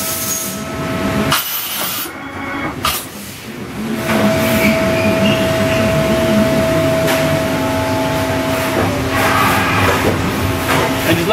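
A Fanuc Robodrill T21iEL drilling and tapping center changes tools from about two feet away. A steady machine whir with tonal hum is broken by a few sharp clunks and a brief dip early on, then it settles into a louder, even drone.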